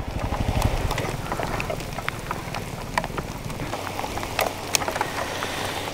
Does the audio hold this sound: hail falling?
yes